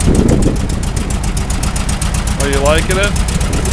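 A 1974 VW Beetle engine with a new carburetor and chrome exhaust idles with a close, steady rhythmic chug, while a person briefly speaks over it.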